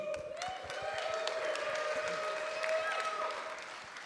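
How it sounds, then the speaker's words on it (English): Faint applause from a live show audience, steady clapping heard from a distance with voices mixed in. "Big round of applause for Stuart."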